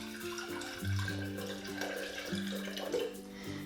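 Filtered water pours into a glass jar of sprouting broccoli seeds for a rinse, a steady splashing trickle running close up throughout with faint background hum.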